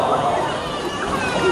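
Water sloshes and splashes as people wade in to swim at a waterfall, a steady churning wash with rushing falls behind and faint voices underneath.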